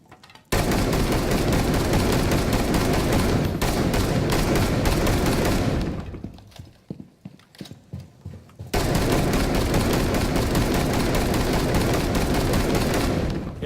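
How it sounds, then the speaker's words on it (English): Full-auto shotgun fire in Rainbow Six Siege, a loud sustained burst of rapid booming blasts, a brief lull with scattered shots, then another long continuous burst. "So it's the first fully auto shotgun in the game."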